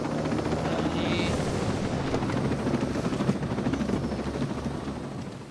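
A helicopter in the video game Ghost Recon Breakpoint gives off a steady, loud rotor and engine roar that holds throughout, with a brief higher whine near the start.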